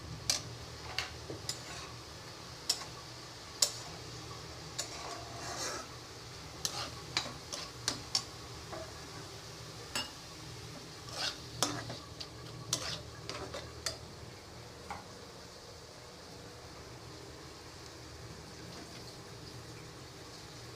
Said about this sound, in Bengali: আমি এদিকে শাকটা বাগার দিচ্ছি আর ওদিকে মেয়ে তরকারি রান্না করতেছে